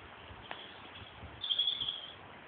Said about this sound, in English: with the sound of birds